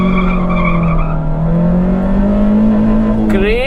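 A car engine revs hard and holds high in first gear with the handbrake down before a launch in an older car without traction control. The pitch climbs steadily, then a sharp burst of noise hits at the end.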